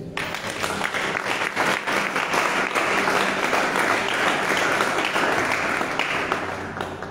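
A large church congregation breaks into sustained, dense applause that stays loud and even throughout, with a few voices mixed into the clapping.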